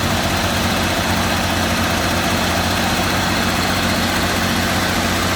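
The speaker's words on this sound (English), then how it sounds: "It's idling a little bit higher than I'd like it to be" A Challenger's engine idles steadily at a slightly raised, constant speed, a loud continuous rumble and vibration close by with no other sounds.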